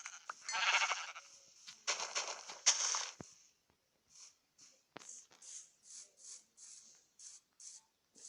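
A black sheep bleats in a few harsh calls, followed by a string of short, evenly spaced bleats, heard close and alone.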